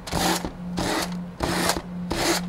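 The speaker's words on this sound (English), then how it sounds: "with a sanding block, this is about a 220 grit sanding block, and you just slide down" Repeated rhythmic rasping strokes of a 220-grit sanding block along a wooden edge, four passes back and forth, close and steady over a low hum.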